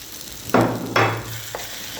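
Small pieces of merguez sausage hit a pan of cooked peppers and tomatoes and are stirred, giving two short bursts of sizzling and frying, then a softer stir, close and fairly loud with no talk.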